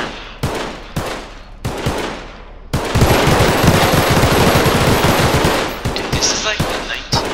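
Tommy-gun style automatic fire in a video game: a few separate loud shots, then a long sustained rattling burst of rapid rounds, close and dominant, with a voice talking briefly.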